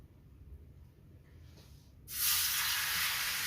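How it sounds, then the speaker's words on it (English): Fajita meat hits a hot frying pan and a loud, steady sizzle bursts up partway through, continuing as a bright hiss. "you can hear it sizzling"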